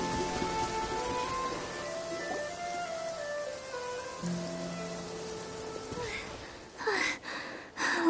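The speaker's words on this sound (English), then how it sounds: "Rain can be quite troublesome sometimes." Rain falling in the video game Genshin Impact, a steady close hiss of drops under soft game music, with a few louder splashing bursts near the end.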